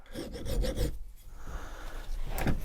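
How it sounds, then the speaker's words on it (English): A larger metal file works the face of a Franchi 612VS shotgun extractor, giving a loud, close rasping in quick rhythmic strokes, then a brief pause and a slower scrape, with no voices. "Next, I'm going to, with a little bit larger file, do the face of the extractor"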